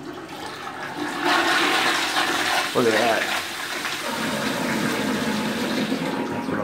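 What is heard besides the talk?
toilet flushing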